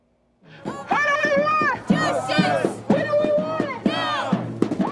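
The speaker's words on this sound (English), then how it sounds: "Hundreds were there to both protest and cheer for the president." Hundreds of street demonstrators gather along Nolensville Pike outside Casa Azafran, protesting and cheering for the president, with rhythmic group chants and shouts rising and falling in repeated bursts.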